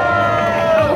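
An audience at a Hongdae street busking dance show shouts and cheers in a dense, loud crowd roar that lasts about one second, heard from close to the crowd.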